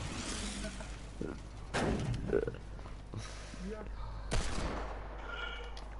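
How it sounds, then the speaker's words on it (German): Gunfire in the video game Fortnite, rapid bursts and single shots cracking over game ambience while players talk in German, moderately loud and intermittent. "Auf uns wird geschossen."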